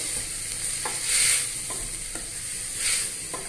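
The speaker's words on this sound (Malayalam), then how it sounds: "അതിൻ്റെ വെളുത്തുള്ളിൻ്റെയും ഇഞ്ചിൻ്റെയും പച്ചമുളക് മാറുന്നത് വരെ ഒന്ന് ഇളക്കി കൊടുക്കാം" Garlic, ginger and green chilli sizzle in a pan with oil, a steady frying hiss broken by a few light scrapes of a spoon as they are stirred, close and moderately loud, with no voices.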